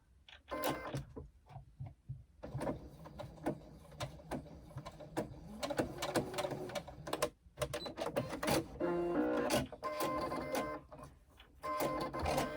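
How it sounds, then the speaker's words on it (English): Sewing machine stitching a long basting seam along the top of a sewn piece, bursts of rapid mechanical whirring and clatter broken by short pauses, close and fairly loud. "I'm just going to run a basting stitch along the top"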